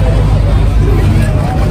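Dense crowd chatter fills the air as passengers crowd aboard the PELNI ship KM Awu from the rear, with loud overlapping voices over a low engine and harbour rumble close by.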